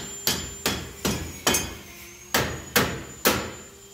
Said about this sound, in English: Use a rubber mallet. See if we tap it into that.